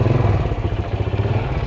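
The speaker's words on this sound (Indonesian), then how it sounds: "Saya mau ngidupin motor saya, Mbak." A motorcycle engine runs with a low, rumbling, slightly uneven idle close by, loud and steady with no talking.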